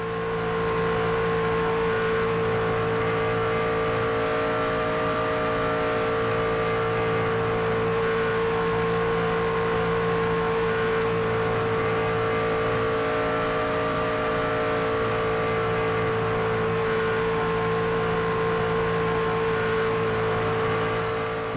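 A race truck engine in NASCAR 25 at Talladega holds a loud, steady high-revving drone for the whole stretch, close and continuous, with no shifts or pauses and no talking.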